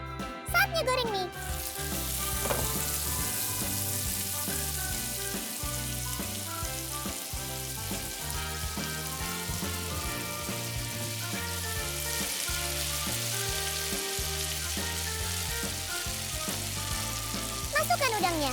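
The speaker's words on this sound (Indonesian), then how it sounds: "Saatnya goreng mie." Noodles fry in a pan with a loud, continuous sizzle and occasional stirring clinks, steady for the whole stretch, with no talking.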